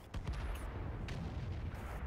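A heavy tank cannon blast in a video game booms out, followed by a continuous low rumble and a second muffled shot, loud and close, with no voices.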